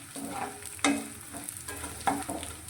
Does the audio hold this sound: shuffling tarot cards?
no